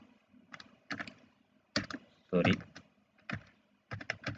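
Close, quiet clatter of computer keyboard keys typed in short bursts with pauses between, as HTML code is entered, one heavier thump near the middle.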